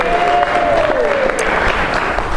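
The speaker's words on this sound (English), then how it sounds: "Let's clap for them." Audience at a talk on millennials breaks into steady applause, dense and continuous with a few cheers mixed in, a sustained voice-like tone riding over the clapping early on.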